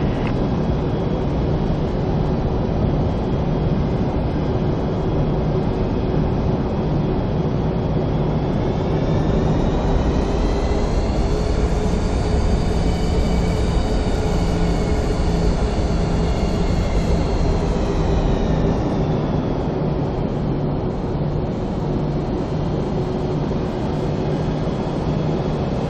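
A Boeing 737-800 taxis in Flight Simulator X with a loud, continuous engine drone. A whine rises and falls midway, and nobody speaks.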